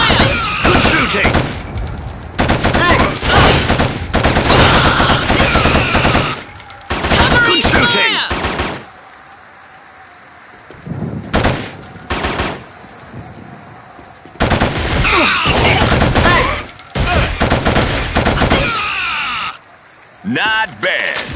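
Gunfire in the Killzone video game, with long bursts of loud automatic weapon fire broken by short pauses, mixed with shouted voices.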